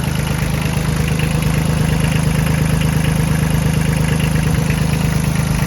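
A small Kubota mini tractor engine idles steadily, a loud, even rumbling drone with no change in pace and no voices.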